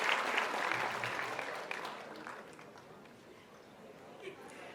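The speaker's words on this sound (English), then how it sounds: "Let's also welcome her with a round of applause." Audience applause at a foundation launch event, a dense burst of clapping with some cheering that gradually thins and fades over several seconds.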